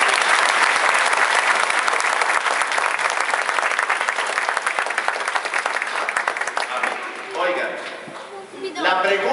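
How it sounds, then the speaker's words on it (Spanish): Loud, sustained applause from a church congregation during a Divine Mercy Sunday Mass, dense clapping that fills the space for several seconds, then thins out near the end while a voice begins to speak. "un aplauso bien grande"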